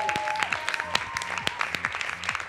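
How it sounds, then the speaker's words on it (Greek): A studio audience claps steadily at a Cypriot television dance show, a dense, close wash of applause with a few sharp individual claps standing out throughout. "Δώστε μας έτσι ακόμη ένα πιο δυνατό χειροκρότημα."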